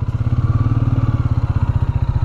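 A Royal Enfield Meteor 350 motorcycle, a 350 cc single, running at a steady idle close by: a fast, even thumping pulse that repeats throughout with no talking.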